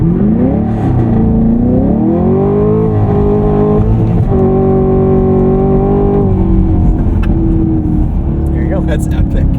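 A 2023 Chevrolet Camaro 1LT with the 3.6L V6 and manual gearbox launches hard in track mode, its engine revving loud and close, rising through gears with sweeping pitch climbs while people talk over it.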